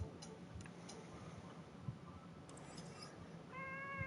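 A cat in Mass Effect Andromeda gives a brief meow near the end, faint and close, over quiet background ticks, with no speech.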